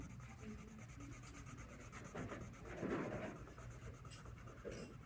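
A yellow colored pencil shades on paper in soft, faint, close-up scratchy strokes, irregular and continuous, with a slightly heavier rasp near the middle.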